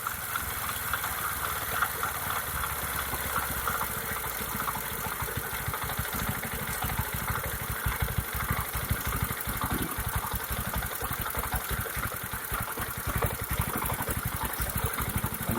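A Bajaj Pulsar 135 LS motorcycle engine idles steadily at about 1200 rpm, a continuous low mechanical thrum with fine rapid pulsing, close by and alone throughout.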